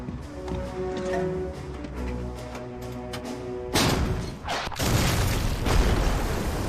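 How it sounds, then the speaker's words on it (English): An M10 tank destroyer shell blasts into a masonry wall, a sudden heavy boom with crumbling debris that breaks in after a calmer mechanical, musical stretch, followed by lingering rumble. "The impact blows a hole at the top of the passageway's masonry wall"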